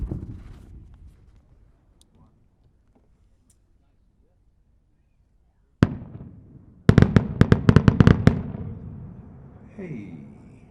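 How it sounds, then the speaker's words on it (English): An Ozark 6-inch willow diadem firework shell with comets bursts in a single sharp boom, followed after a pause by a rapid crackling cluster of loud reports, then fading echoes and faint distant voices at an outdoor winter fireworks showcase. "a 6-inch fireworks by Ozark Fireworks, and it's a willow diadem with comets that explode into a spiral of reports"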